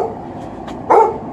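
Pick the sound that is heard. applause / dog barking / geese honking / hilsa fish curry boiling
dog barking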